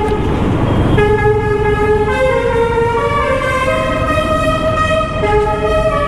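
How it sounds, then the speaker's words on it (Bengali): A vehicle horn on a highway sounds as one long continuous multi-tone blare that lasts the whole stretch, loud and close over steady road and engine noise. "সেরা হর্ন,"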